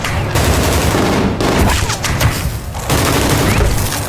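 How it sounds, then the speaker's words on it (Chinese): Dense bursts of AK rifle fire rattle loudly in a war movie battle scene, with rapid automatic volleys and short gaps between them. "梅西拿到武器之后火力全开，拿着一把阿卡4器对付整个村庄的武装分子。"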